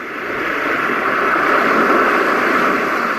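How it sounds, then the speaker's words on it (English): Powerful waves crashing onto sand from a white noise machine, a dense continuous roar that builds slightly in the first second and then holds loud and steady, with no voices. "The powerful waves crashing in on the sand."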